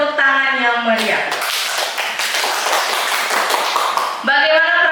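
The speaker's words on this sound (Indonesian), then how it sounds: "Mari kita beri tepuk tangan yang meriah." An audience at a school teacher-training event bursts into loud, close clapping for a teacher, sustained for about three seconds, with a voice speaking before and after it.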